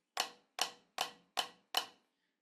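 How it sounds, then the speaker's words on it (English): Five evenly spaced snare drum flams struck with sticks, each a crisp close crack with a quick decay, played alone in a slow, steady rhythm before falling silent. "So one thing I have my students do is we play flams"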